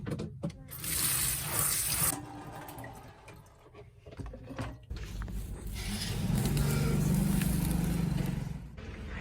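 Tap water runs and splashes while rinsing in a home vegetable-growing setting, with intermittent pouring and gurgling that swells to a steady, louder flow in the second half.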